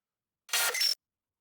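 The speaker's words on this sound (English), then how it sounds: "I simply chopped it up and rearranged some of the stuff so it sounds more glitchy." A short bright burst of chopped, stuttering noise from a future bass glitch sample lasts about half a second, abrupt on both ends with a thin whistling tone near its close.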